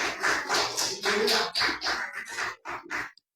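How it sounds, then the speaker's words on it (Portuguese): Congregation clapping for the Lord during an evening church celebration service, a rapid, dense patter of many hands that fills the room, then thins out and stops near the end. "Vamos aplaudir o Senhor nessa noite, vamos?"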